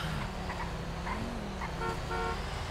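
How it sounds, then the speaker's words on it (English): A car horn honks in the GTA FiveM video game, short repeated toots over a steady engine and road drone, heard fairly close. "Why are you honking at us?"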